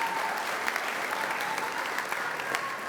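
Audience applause fills an awards ceremony, a dense, steady wash of many hands clapping that holds evenly for about three seconds with no voices over it.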